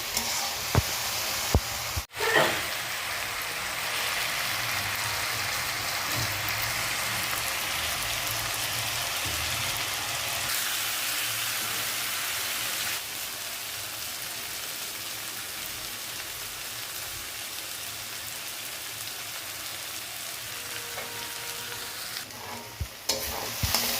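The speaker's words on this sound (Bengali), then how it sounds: "এবার আলুটা ভালো করে ভাজা হতে দেবো" Potatoes sizzle in a pan with a loud, continuous rain-like hiss, a sharp knock near the start and stirring underneath; the hiss drops slightly partway through and continues without speech.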